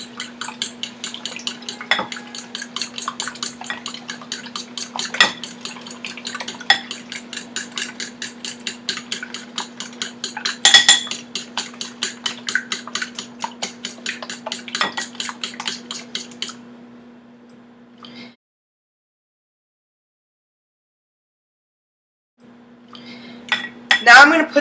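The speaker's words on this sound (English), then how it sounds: "I'm going to use a fork to whisk the eggs" A fork whisking eggs in a bowl, a fast, even run of close metallic clinks that suddenly stops, leaving near silence before a few more clinks at the end.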